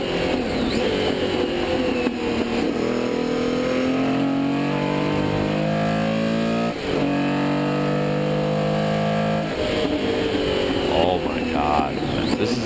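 A Porsche 917K race car engine roaring and revving through crisp gear shifts, with rising pitch sweeps broken by quick shift breaks, loud and continuous.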